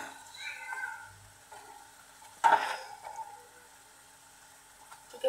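Spices sautéed in a pan for boal fish curry, with turmeric, chili, coriander and cumin powders, salt and two bay leaves, give a quiet, low sizzle and a single louder stirring scrape; a faint voice comes in near the start.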